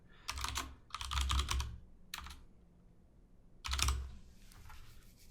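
Close, quiet bursts of typing on a computer keyboard, quick clusters of key clicks separated by short pauses, with no talking.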